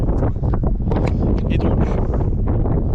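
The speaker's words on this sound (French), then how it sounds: "il y a énormément de vent" Strong wind buffets the microphone outdoors in open countryside in Seine-et-Marne, a loud, rumbling gusty roar throughout with someone speaking briefly underneath.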